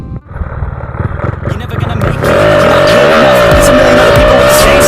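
A Honda Wave 125i motorcycle engine, rebuilt a year earlier, runs with uneven low chugging and then revs up to a loud, sustained rising whine while under way, with someone talking over it.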